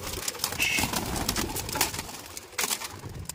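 Pigeons fluttering and cooing outdoors, with bursts of wing flapping and scattered bird calls over a steady open-air background.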